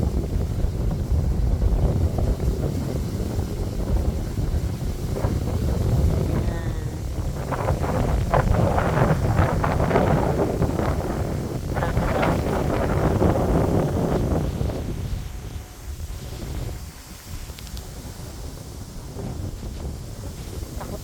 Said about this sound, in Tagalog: ang sarap na simoy ng hangin.